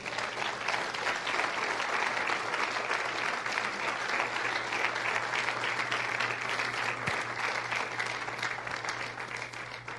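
Church congregation applauds during a sermon, a loud, continuous wash of many hands clapping that holds steady throughout.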